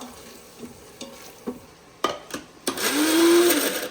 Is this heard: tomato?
yes